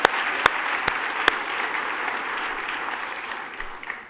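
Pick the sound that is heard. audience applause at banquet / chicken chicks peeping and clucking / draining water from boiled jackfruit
audience applause at banquet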